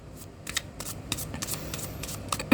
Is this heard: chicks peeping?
no